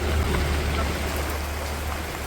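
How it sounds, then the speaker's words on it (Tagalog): Steady rain falls over flooded rice paddies during a typhoon, a dense continuous hiss with a low rumble beneath, close and fairly loud throughout. "Pero hindi pa rin po natigil ang ulan."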